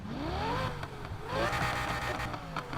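Lamborghini Huracan 5.2 V10 engine in the racing game Need for Speed Heat, revving hard twice in a row with rising and falling pitch, close and loud with no talk over it.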